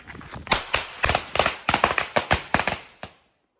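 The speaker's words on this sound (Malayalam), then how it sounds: "ഇപ്പൊ മാലപ്പടക്കത്തിന് തീ കൊളുത്തുകയാണ്." A garland string of firecrackers goes off at a family Vishu celebration at home, a rapid, loud run of sharp cracking bangs for about three seconds that ends with a last pop, then silence.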